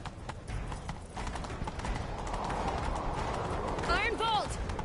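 Horse hooves clip-clop at a steady gallop in The Witcher 3 amid busy background noise, with a brief whinny-like call near the end.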